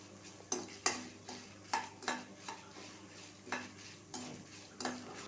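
Dried red chillies, coriander seeds and cumin frying dry in a kadai, with a spoon scraping and stirring in sharp, irregular strokes over a faint steady sizzle, close and fairly quiet, no talking.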